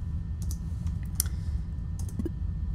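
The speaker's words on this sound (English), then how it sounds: "I'm very bad at typing today." Scattered keyboard clicks from typing commands in the space salvage game Duskers, irregular short taps over a steady low hum, fairly quiet.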